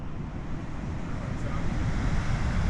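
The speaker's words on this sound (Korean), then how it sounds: "이 물보라 때문에 너무 가까이 있으니까 안 보이네." Victoria Falls in Zimbabwe, heard close up amid heavy spray, a constant thundering rush of falling water with deep low rumble and wind buffeting the microphone.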